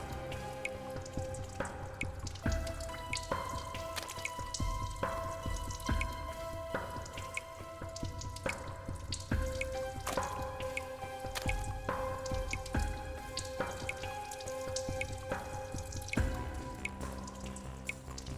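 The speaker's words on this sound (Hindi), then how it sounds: "पानी कहां से टपक रहा है?" Water drips steadily indoors, a continuous patter of many small drops landing in a busy, irregular rhythm, fairly close and even in level throughout, with no talking.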